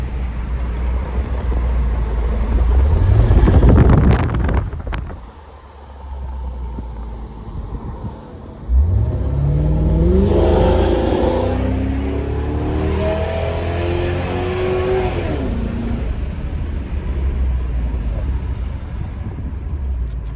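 A loud car engine with a section of exhaust missing roars and revs with a harsh, rasping note, rising in pitch as it accelerates uphill, then settling into a steady rumbling drone.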